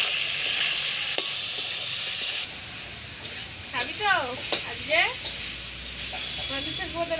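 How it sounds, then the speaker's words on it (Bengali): Fish frying in a pan is stirred and cooked down like meat, with a steady hiss and sizzle under scraping stirs. Chirping bird calls and a voice come through partway. "মাছটা দিয়েও আবার একটু মাংসের মতো করে ভালো করে কষে নেব"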